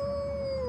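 A one-year-old toddler imitates a howl with a single sustained, wavering wail that holds steady and then slides down at the end, fairly close and alone.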